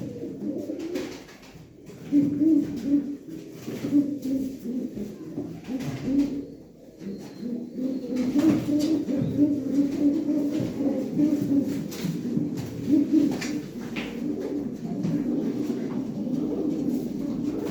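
Pigeons coo steadily in low, rolling phrases, the calls repeating close by with brief pauses and little else underneath.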